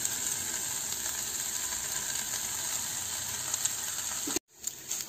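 Vegetables and egg fry in a pan for stuffed noodle pockets, a continuous close hiss of sizzling oil that cuts off abruptly near the end, followed by faint clatter.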